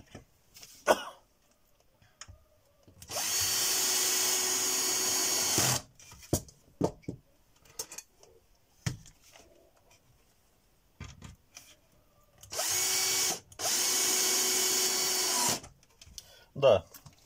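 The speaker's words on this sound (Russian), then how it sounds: "просто прикручиваем саморезами" A power screwdriver drives self-tapping screws into a beehive entrance guard, whirring in two long bursts, each several seconds, with scattered clicks, clunks and handling noises between them.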